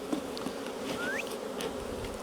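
Honey bees swarm over the outside of a hive box during a drone-laying queen inspection, a dense continuous buzz filling the air close by, with one bee's rising whine passing near.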